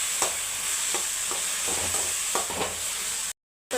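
Onion and tomato with dried red chillies fry in a pan, a steady bright sizzle broken by repeated scraping stirs, close and loud with no talking.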